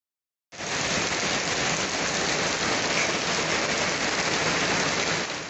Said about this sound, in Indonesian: fenomena hujan es disertai angin puting beliung kembali menerjang salah satu desa di Banyuwangi